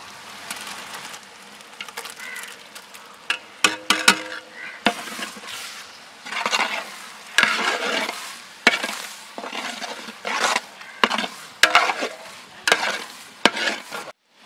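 A ground paste of onion, tomato and green chili fries in a pan for prawn gravy, with loud sizzling broken by repeated scraping strokes of a spoon stirring it, close up and without talk.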